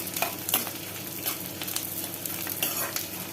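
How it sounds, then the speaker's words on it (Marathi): Edible gum (dink) being stirred and roasted in a pan for mung dal laddoos: a continuous close sizzle with repeated scraping strokes of a spoon, no talking. "हलवत राहावा लागतो असा डिंक"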